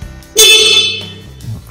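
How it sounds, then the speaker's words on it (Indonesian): A loud, bright horn on a 1996 Honda Astrea Star motorcycle honks once for about half a second, then fades, with a low engine-like hum underneath. "Dan coba kita klakson."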